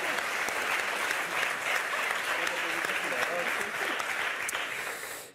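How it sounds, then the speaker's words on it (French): Studio audience on a French TV quiz show breaks into steady, even applause, a dense wash of clapping heard close and loud that tapers off at the very end. "On peut applaudir Séverine en tout cas"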